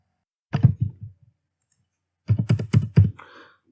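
Fingers tap a PIN or password on a computer keyboard, a short group of crisp key clicks close to the mic, then a pause and a quicker run of several more presses in a quiet room.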